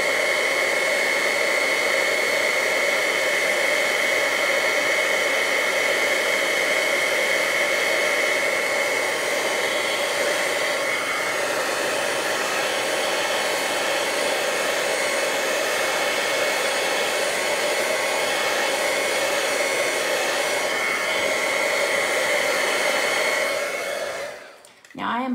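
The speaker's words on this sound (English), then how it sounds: "now that my heat gun's warm, I'm gonna come at this." Heat gun blowing hot air to melt embossing powder, a loud, steady whooshing roar with a constant motor whine held close for over twenty seconds before cutting off abruptly at the end.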